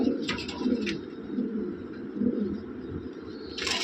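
Pigeons coo in low, throaty rolling calls, repeating steadily over a constant background murmur, with a few faint higher chirps.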